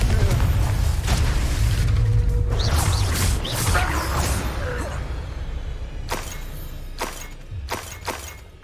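Fire spell blast cast as Confringo in the Hogwarts Legacy video game, a series of booming, crashing bursts over a continuous low rumble, with sharp impacts and crackling debris toward the end.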